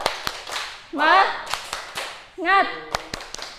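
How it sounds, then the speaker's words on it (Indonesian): A classroom of students performs a rhythmic spirit clap, sharp group claps landing in a patterned beat, alternating with loud chanted vocal bursts from the class between the clap sequences. "kita tepuk semangat dulu ya"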